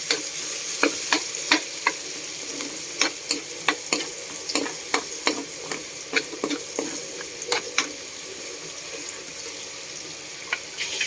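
String beans with pork and dried fish are sautéed in a pan. A soft sizzle runs steadily under frequent sharp clinks and scrapes of a utensil stirring, close by.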